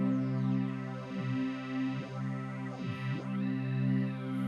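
A bright, airy synth pad made in Ableton Live 11 Suite holds a steady sustained chord while its modulated frequency and feedback make sweeping, swooping tones dip down and rise again several times.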